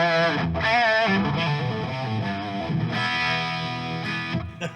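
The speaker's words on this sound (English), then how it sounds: "Hold on, I got too much reverb here." Electric guitar riff played through distortion with heavy reverb and chorus-like effects, sustained, ringing notes swelling and washing over each other loudly with no voices.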